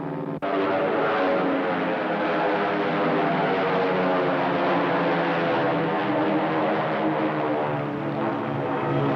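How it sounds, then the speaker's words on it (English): American dive bomber propeller aircraft attacking the Japanese carrier Akagi in a war film: a loud, continuous droning engine roar that cuts in abruptly and holds steady and close throughout. "The Enterprise dive bombers attacked the Akagi"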